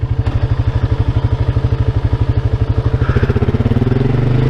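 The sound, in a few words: quad ATV engine idling high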